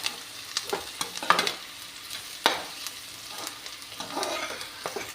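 Tempering for a drumstick-flower and potato curry sizzles in a pan, a continuous close hiss broken by a few sharper pops and spatula scrapes, with no one talking.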